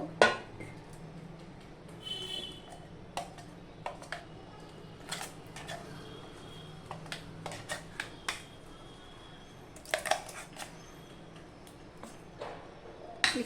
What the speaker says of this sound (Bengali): এবার আমি এটা একটা পাত্রে ঢেলে নেব